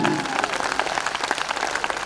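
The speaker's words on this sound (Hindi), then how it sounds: "तालियां कम है थोड़ी सी" Audience applause at a Hindi comedy poetry show in Bhilwara, a steady wash of claps of moderate loudness for about two seconds, with no one speaking over it.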